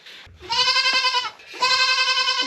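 Goats bleat loudly and unhappily while being caught on a dairy farm, two long wavering cries close to the listener with a short gap between them.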